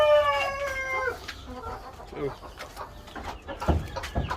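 A hen chicken on a Turkish farm clucks and squawks loudly and close, with a harmonic crow-like call at the start followed by irregular clucks and scratchy barnyard noises.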